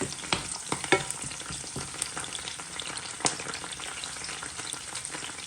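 Chilies and curry leaves frying in oil for Jaffna-style coconut sambol, a dense continuous crackling sizzle with occasional stirring clicks and scrapes, close and steady throughout, no voices.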